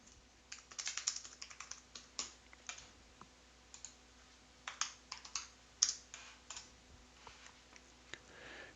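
Typing on a computer keyboard in quick irregular bursts of light clicks with short pauses between, close and fairly quiet with no talk.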